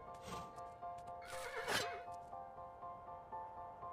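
A horse in the video game Kingdom lets out a clear, close whinny over soft hoof clip-clop and a faint musical background, with no talking.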